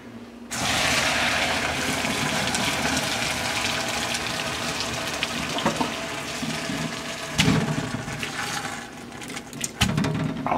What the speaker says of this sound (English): Okay, now this, what I gotta do, I gotta drain. I drain it right over here.